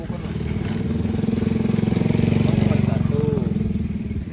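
Motorcycle engine running steadily close by with a low, throbbing idle and a brief rise in pitch near the end, while people talk over it.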